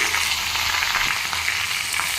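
Fish frying in a pan on a home kitchen stove, a dense, steady hiss and crackle of hot oil that stays close and even throughout.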